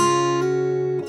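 Fingerstyle guitar playing a song intro, with strings plucked one after another rather than together: a few clear, ringing notes start in sequence and sustain, close and moderately loud, with no talking.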